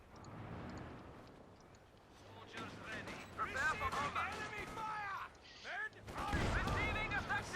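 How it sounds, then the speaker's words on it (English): A field gun fires on a flak half-track in the video game Company of Heroes 2, with booming shots and impacts mixed into busy battle noise and explosions, repeating through the second half. "Field gun there gets a good hit on the flak half track."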